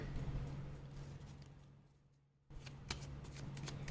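Tarot cards being shuffled and drawn for a reading, a soft continuous riffling rustle that dips briefly and resumes with small crisp flicks, quiet and close.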